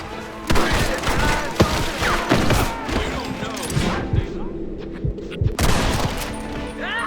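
Gunfire in a Red Dead Redemption shootout crackles in dense, overlapping volleys of single shots and thuds, mixed under loud shouting voices.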